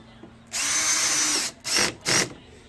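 Power driver fitted with a T15 Torx bit running a screw while refitting the headlight on a 2014 Maserati Ghibli SQ4, a close whirring burst followed by two short pulses.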